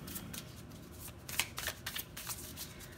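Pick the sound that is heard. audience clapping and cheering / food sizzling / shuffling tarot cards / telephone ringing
shuffling tarot cards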